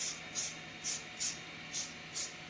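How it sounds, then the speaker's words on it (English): Hairspray is sprayed onto a 3D printer build plate in five short, evenly spaced hissing bursts, close and fairly quiet over a low background hum. "so I spray it with hairspray"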